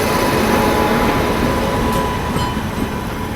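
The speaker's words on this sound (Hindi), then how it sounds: "सो फाइनली अपनी जो ट्रेन है 15 मिनट बिफोर अराइवल करी है बगहा रेलवे स्टेशन के प्लेटफॉर्म 2 पे" Satyagraha Express arriving at platform 2 of Bagaha railway station, a loud, steady rumble of rolling coaches and wheels with faint squeals.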